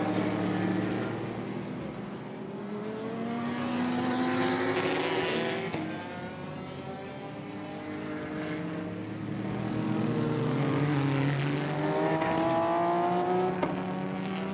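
Racing cars roar past during a 24H Series endurance race, including a Modern Motorsport Renault Clio; several engines swell, drone and fade as they pass, with a steady loud rumble throughout.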